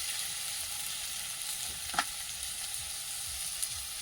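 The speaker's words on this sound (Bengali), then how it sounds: "লবণ আর হলুদ দিয়ে মশলাটা কষিয়ে নিই" Spices frying with salt and turmeric in a pan, a steady close hiss of sizzling oil with a single brief clink of stirring.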